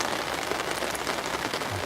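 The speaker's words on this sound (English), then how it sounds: "I hate backing in when it's raining." Steady rain falls during a flood, a dense, even patter on surfaces close by that is constant throughout, with no talking.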